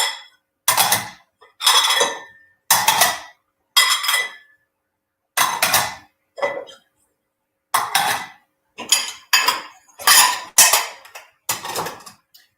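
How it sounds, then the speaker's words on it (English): Dishes clink and clatter together in a run of sharp, bright bursts separated by short silences, fairly close and loud, with no one talking over them. "you're probably hearing the dishes being clinking together, which is normal"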